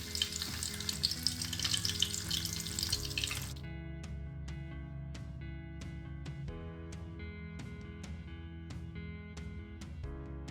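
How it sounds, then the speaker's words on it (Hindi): Cabbage rolls fry in hot oil in a pan on low heat, sizzling steadily for a few seconds before the hiss drops away and only light, separate taps and clinks remain. "पैन में ऑयल गरम करें और हल्की आंच पर, बिल्कुल हल्की आंच पर इसको रोल को तल लें।"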